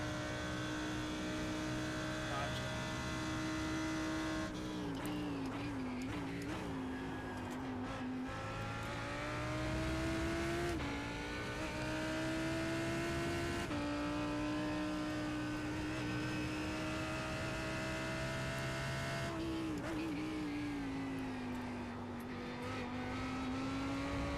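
GT3 race car engines at Road America in iRacing, a steady loud engine drone rising and falling through gear shifts and revs, with other cars audible nearby, no talk.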